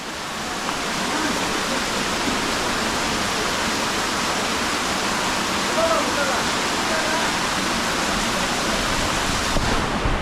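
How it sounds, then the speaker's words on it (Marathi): Heavy rain pours down steadily in a Konkan village, a dense, loud, even wash of falling water filling the whole stretch without letup. "आता जोरदार पाऊस सुरू झाला आहे आणि पाऊस बघा."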